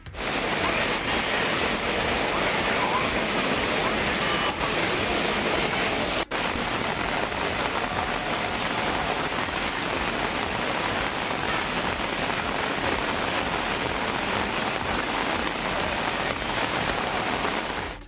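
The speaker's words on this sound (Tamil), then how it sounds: "திருப்பதியில் 4 மணி நேரத்திற்கும் மேலாக வெளுத்து வாங்கிய கனமழையால் திரும்பும் திசையெல்லாம் மழைநீர் பெருக்கெடுத்து ஓடியது" Heavy rain pours down in Tirupati as rainwater floods and flows everywhere, making a dense, unbroken roar of drops and running water. It is loud and close for the whole stretch, with no speech.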